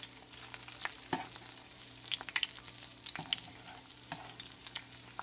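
Egg rolls frying in a pan of oil, a low steady sizzle with scattered crackles and soft scraping as they are turned; quiet and close, with no talk.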